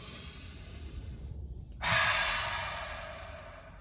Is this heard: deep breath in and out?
yes